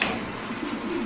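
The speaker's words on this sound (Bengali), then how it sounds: "এখানে তিন পিস এক্সিবিশন কবুতর আছে" Exhibition pigeons cooing, a soft low murmuring coo repeating close by through a brief moment, with no voices.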